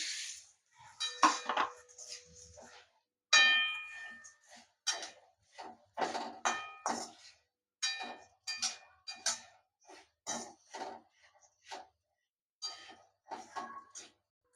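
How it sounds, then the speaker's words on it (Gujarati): Puffed rice (mamra) is tipped into a pan seasoned with asafoetida and stirred, giving irregular bursts of dry rattling and metallic scraping separated by short pauses. "ખાલી હિંગથી જ મમરા વઘારવાના છે તો હવે મમરા નાખશું આપણે"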